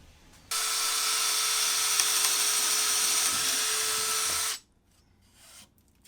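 A cordless drill whirs steadily at high speed for about four seconds, then cuts off abruptly, leaving near silence.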